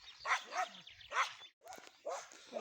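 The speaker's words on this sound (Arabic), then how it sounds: "ها عندك عندنا هاد الكلب الجيران" A neighbor's dog in a village in Morocco's Middle Atlas barks repeatedly in short bursts, fairly close and loud, with brief pauses between the barks.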